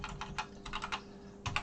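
Clattery keystrokes on a BBC Micro Model B keyboard, several quick taps in short bursts with a pause, then a few more, close and fairly quiet over a low hum.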